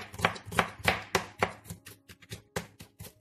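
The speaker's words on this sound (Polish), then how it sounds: "Naszą cebulkę bardzo drobno trzeba pokroić." An onion being finely chopped with a knife on a board, quick close rhythmic chops with sharp blade strikes, steady at first and then slightly irregular, with no speech.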